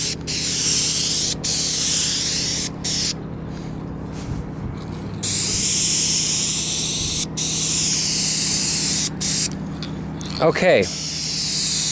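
An aerosol spray paint can hisses in repeated bursts as car paint is sprayed, close and loud, with short gaps between passes and someone speaking briefly.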